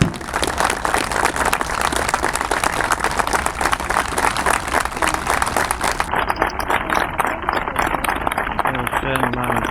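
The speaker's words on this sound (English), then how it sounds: "give a minute's applause for Nelson Mandela" A large crowd gives a sustained round of applause in tribute to Nelson Mandela, loud dense clapping continuing without pause throughout, with voices faintly mixed in.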